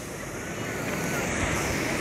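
Sea waves wash steadily onto a beach, a continuous broadband surf roar with wind buffeting the microphone and no distinct breaks, lasting the whole stretch.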